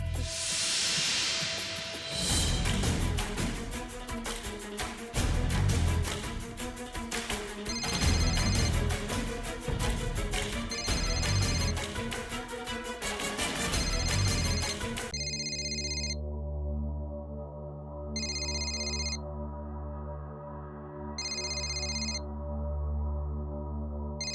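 A phone rings over background music, then a clear repeating ringtone pattern plays in regular bursts separated by short gaps, loud and close.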